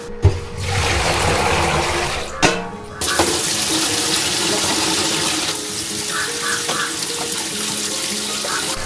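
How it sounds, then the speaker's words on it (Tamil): Amaranth greens are rinsed under a running tap, water splashing and pouring steadily into a sink or bowl close by, with a couple of brief pauses and small clinks as the leaves are handled. "ஒரு தடவை அலசி வச்சு ஊற்றிட்டு இன்னொரு தடவை அலசி எடுத்துக்கலாம்."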